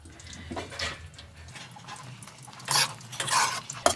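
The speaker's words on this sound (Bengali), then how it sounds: "মাঝে মাঝে এটা নাড়াবো" Oil-free chicken is stirred in a pot, with soft scraping strokes and then several louder scrapes and clatters of a spoon against metal near the end, close up and without speech.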